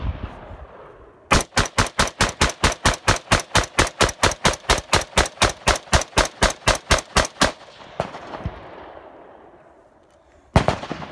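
A 14.5-inch pinned-and-welded AR15 with dissipator and rifle-length gas fires brass ammo in a long rapid string of about thirty loud, evenly spaced shots, followed by a fading echo and one more shot near the end.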